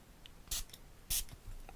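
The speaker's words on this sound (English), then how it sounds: "So I'll just give it a spray there." Two short, sharp hissing sprays from a perfume atomizer, close up, separated by a brief pause, with faint clicks around them.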